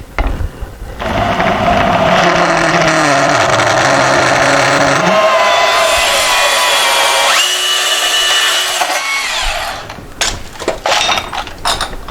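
Angle grinder fitted with a cutting disc slicing through a painted metal bracket from a Porter Cable 5 HP air compressor, a loud sustained whining grind lasting about nine seconds, with shifting pitch and brief clatter as it starts and stops.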